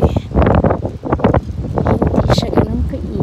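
Gusty wind buffets the microphone during a walk outdoors through a residential neighborhood, a steady low rumble with a person talking over it throughout.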